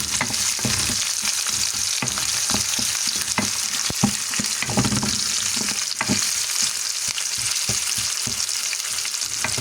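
Chili and tomato sauté for kuzhambu, giving a continuous loud sizzle and frying hiss with intermittent stirring scrapes and taps throughout.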